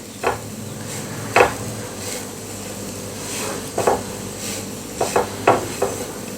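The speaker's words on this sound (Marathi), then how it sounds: "एक दोन मिनटे तुपावरती हे खोबरं मी परतून घेतलं" Grated coconut is stirred and roasted in ghee in a pan, a soft low sizzle under intermittent scraping and clacking of a spoon against the pan, in short clustered bursts.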